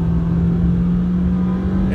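A Nissan Sentra rental car's engine drones steadily from inside the cabin as it accelerates, a loud continuous hum with a strong low tone and no talk.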